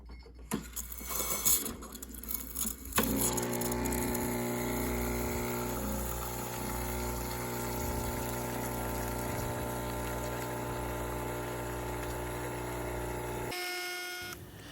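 A De'Longhi ECP espresso machine pump starts with a click and runs with a loud, steady buzzing hum as hot water flushes through during descaling, then cuts off abruptly.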